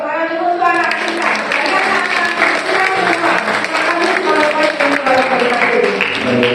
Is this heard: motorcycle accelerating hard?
no